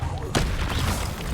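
A Levioso spell is cast in the video game Hogwarts Legacy, bursting out as one sudden sharp whoosh-like blast that trails off into a short rumbling tail.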